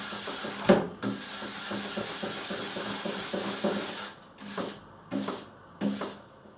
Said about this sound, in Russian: В принципе, синим нейлоном уже идет полировка скользящей поверхности.